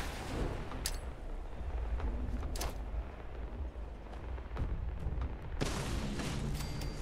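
Grenade explosions in Fallout 76, several deep booming blasts with sharp cracks over a rumbling low battle background, loud and close with no talking.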